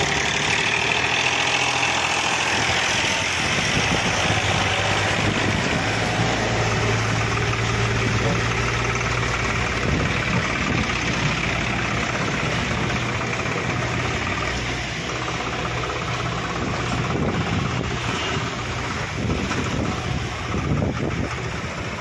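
Swaraj 735 FE and Mahindra 265 DI tractor engines idle together outdoors, a steady low diesel rumble with a faint knocking texture that holds at a constant level throughout, with no talk over it.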